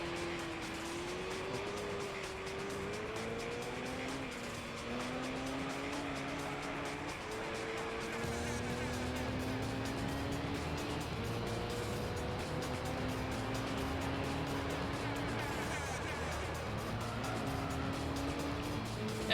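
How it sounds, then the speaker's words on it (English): An LMP race car in Gran Turismo 3 is braked and drifted, its engine note sweeping up and down through repeated gear changes, with tire squeal under a steady, moderately loud roar. "you can kind of hit the brakes, drift the car around and floor it with this"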